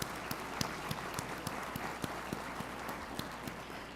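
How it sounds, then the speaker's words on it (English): Audience applause for competitors at the Pelican Cup 2025 event, a steady, fairly faint patter of clapping with individual claps popping out at irregular intervals and no voices over it. "A big round of applause."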